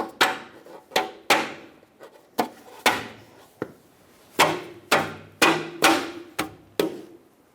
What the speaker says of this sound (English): Now install the hubcaps if your vehicle had some.